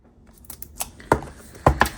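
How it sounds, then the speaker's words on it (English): Tape is peeled off the side of a cardboard smartwatch box: a few short, crackly rips and tugs at close range, with no voice over them. "there's some tape on the side here that I'm gonna peel off"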